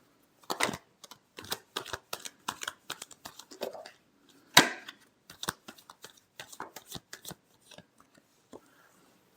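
Tarot cards being shuffled by hand in a quiet room, producing a string of close, crisp riffling snaps and taps in irregular bursts, with no talking.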